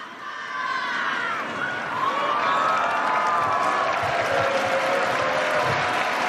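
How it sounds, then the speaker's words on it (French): A large crowd at the Easter Urbi et Orbi blessing in 2025 cheers and shouts encouragement, a dense, steady roar of voices with rising whoops held continuously for several seconds. "Le Saint-Père écoute les cris de joie de la foule"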